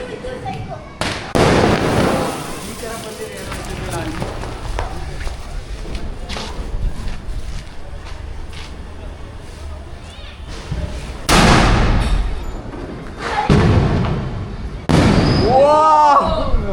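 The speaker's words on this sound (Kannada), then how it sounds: "ಕೆಳಗಡೆ ಎಲ್ಲ ಪಟಾಕಿ ಹೊಡೆದಾಯ್ತು, ಸ್ವಲ್ಪ ರಾಕೆಟ್ಸ್ ಉಳಿದಿದೆ, ಅದನ್ನು ಅಂಟಿಸ್ತಾ ಇದ್ವಿ" Loud Diwali firecrackers and rockets burst in sharp bangs and crackling volleys, some close and some distant, with voices talking in between and a final rapid crackle.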